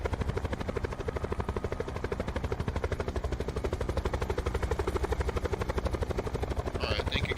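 A helicopter in the Call of Duty Black Ops 4 Blackout game mode gives a loud, fast, steady rotor thump that pulses evenly throughout, with a brief burst of higher sound near the end.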